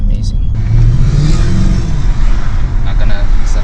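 A Mercedes-Benz E63 AMG engine pulls steadily under acceleration while driving, a deep, continuous rumble heard from inside the car with voices talking over it.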